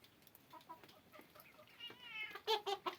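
Chickens in a yard clucking, a run of short close clucks that grows busier and louder toward the end.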